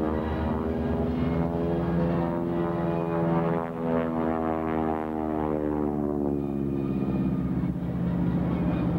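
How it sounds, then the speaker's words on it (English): A North American AT-6 Texan propeller airplane flies past at an air show, its radial engine droning loud and steady with a rising then falling pitch as it passes overhead. "Mr. John Culver in the AT-6 Texan"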